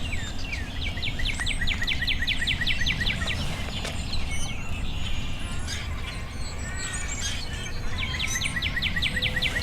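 Dawn birdsong with Mourning Dove among the singers, repeated trilling and chirping phrases from several birds over a constant low background rumble, steady and moderately loud with no talking.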